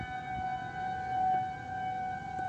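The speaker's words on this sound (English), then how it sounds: "don't want to be far away from a Federal Signal 2001 when it is going off" A Federal Signal 2001 civil defense tornado siren wails in a steady sustained tone, loud and continuous with slight swells in volume as it rotates, heard with no talk.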